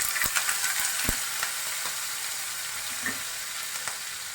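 Mustard seeds, cumin, sesame seeds and green chilli paste sizzle loudly in hot oil. Steady frying hiss is broken by the occasional scrape or knock of stirring.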